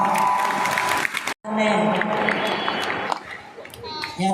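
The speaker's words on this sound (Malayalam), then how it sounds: "സുവർണ ജൂബിലിക്ക് കൈയടി പോരാ," A school audience at a golden jubilee celebration claps and cheers in a busy burst of crowd noise. Voices and children's chatter mix through it, with a brief drop in sound partway through.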